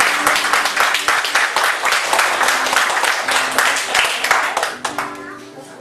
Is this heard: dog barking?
no